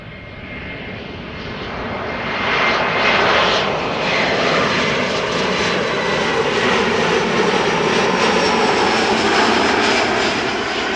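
Small Embraer regional jet at Amsterdam Schiphol Airport, a steady broadband engine roar that swells over the first few seconds and then holds loud and continuous, close by, with no talking.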